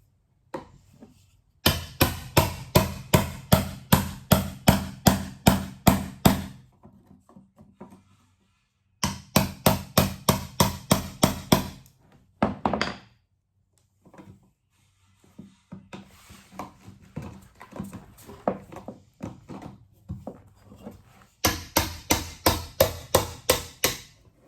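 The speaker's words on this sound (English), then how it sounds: "I got a chisel and a hammer out" A hammer strikes a chisel against a fused paint can lid in rapid, rhythmic bursts of sharp metallic taps, close and loud, separated by short pauses and softer scraping.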